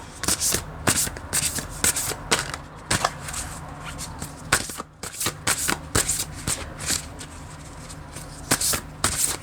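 Tarot cards being shuffled by hand, close and loud, in quick riffling bursts separated by short pauses, repeating through the whole stretch with no voices.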